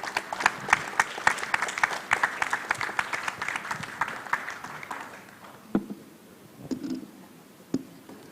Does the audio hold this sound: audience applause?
yes